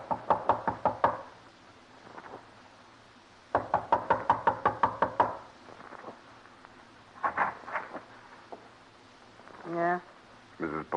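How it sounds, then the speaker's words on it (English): Two quick bursts of sharp rapping on a door in an old noir radio drama, each about six or seven knocks, followed by brief voices talking. "A knock."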